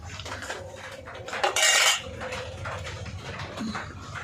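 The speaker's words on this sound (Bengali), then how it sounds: "ডালটা আমি নামিয়ে নিচ্ছি" Metal pot of cooked dal lifted off a stove, with clattering pot and utensil clinks and a louder scraping burst midway, close up, over steady kitchen background hiss.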